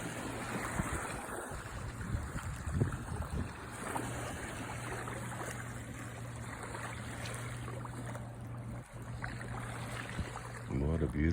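A river on a morning at Wisconsin Dells flows in a soft, continuous wash beneath a steady low hum, with faint voices and a louder disturbance near the end.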